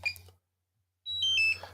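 A drone being switched on gives a few short, high electronic beeps close by, after a moment of near silence, with a faint low hum underneath.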